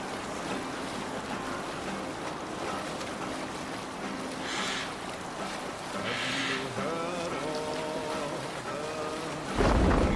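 A Viking longship sails the open sea in Assassin's Creed Valhalla: steady wash of waves and wind against the hull, with a creak and brief tonal swells, no talking, closing in a louder rush.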